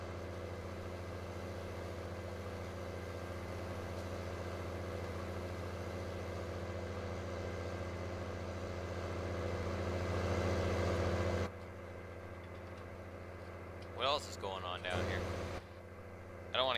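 A tractor engine idles steadily in the farming video game Farming Simulator 19, a low continuous drone that runs unbroken, then drops in level as a voice talks over it near the end.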